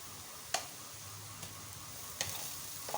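Onions with garlic, ginger and green chilli paste frying in a pan for black pepper chicken, a low steady sizzle punctuated by four crisp utensil taps, no voices.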